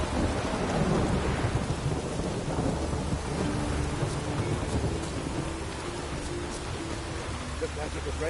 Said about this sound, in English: Looked like it would rain, and here it is.